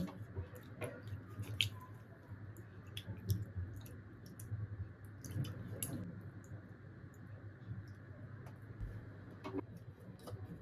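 Wet squishing and dripping with scattered clicks and knocks as potatoes are handled in water, over a low steady hum.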